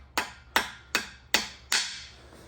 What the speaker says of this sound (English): as you hammer it in, it kind of grabs